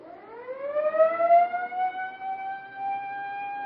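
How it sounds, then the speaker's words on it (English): A siren being tested on a rainy day in the radio drama Weather Ahead on Radio City Playhouse, a loud rising wail that climbs then holds a steady sustained tone, heard alone without talk. "Siren's okay. Huh? The siren. Try it."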